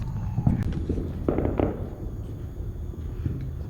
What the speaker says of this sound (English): These fireworks are insane.